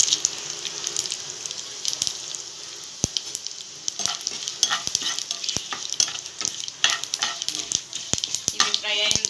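Spices and cumin seeds frying in hot oil crackle and sputter with dense, irregular pops over a continuous sizzle, close and fairly loud.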